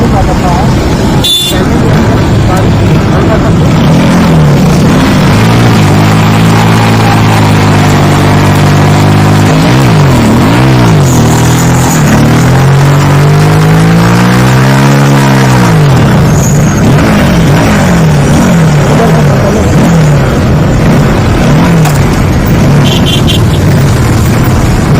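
A Bajaj Pulsar RS200 motorcycle warming up before a burnout, its engine idling and then revving in repeated rising and falling sweeps, loud and close, with someone talking over it.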